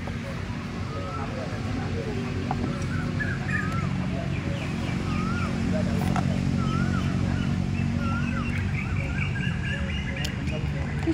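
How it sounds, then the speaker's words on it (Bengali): Birds calling outdoors during a Holi outing in spring, repeated short chirps and whistled calls scattered over a steady background hum of traffic and people, with a dog audible at times. "কি সুন্দর পাখিগুলো ডাকছে না"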